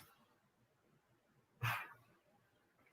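A single quick sneeze from a person in a quiet indoor room, a short sharp burst that is fairly close, with faint breathing and background noise around it.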